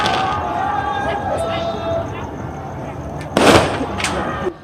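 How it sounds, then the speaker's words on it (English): Sporadic New Year's night gunshots and fireworks go off in a neighborhood in Cameroon. Two sharp bursts stand out near the end over a steady, hissing background. "characterized by sporadic gunshots in some neighborhoods for fireworks"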